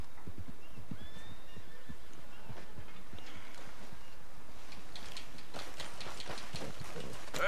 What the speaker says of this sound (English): Where's horse?